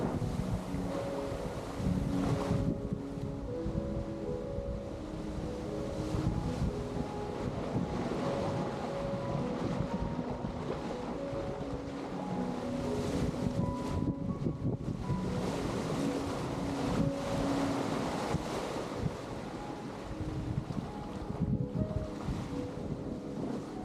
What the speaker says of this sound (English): We're making a beautiful wake back here behind us, and we couldn't be happier to be on the Pacific Ocean.